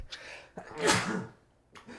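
A single loud sneeze bursts out near the mic, preceded by a short sharp intake of breath and followed by a brief breathy exhale, with faint background noise around it.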